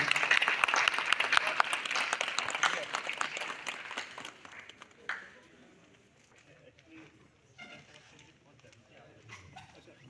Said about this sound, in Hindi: जोरदार तालियों के साथ सर का अभिनंदन और स्वागत।